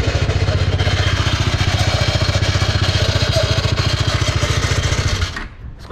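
A Bajaj Dominar 400 motorcycle engine runs at a steady, rapid idle with a rhythmic putter, close and loud, then cuts off abruptly near the end.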